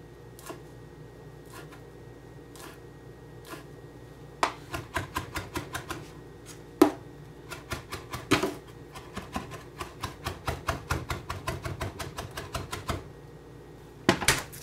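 A knife chops through folded fresh garden herb leaves, likely mint and parsley, on a cutting board, with rapid, evenly spaced taps that run in long bursts, close and fairly crisp against a quiet room.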